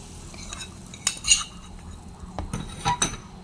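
A spoon stirs hot spice mix into garlic cloves for homemade garlic pickle, making a few scattered metallic clinks and soft scrapes against the pan, quiet and close, with no talking.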